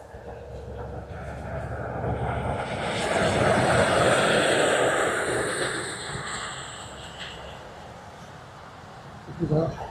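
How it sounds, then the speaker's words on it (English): An ATR turboprop from Edinburgh moves past on a windy day at Dublin Airport, its loud propeller and engine drone building to a peak midway, then tapering off into gusty background noise. "This is our ATR from Edinburgh."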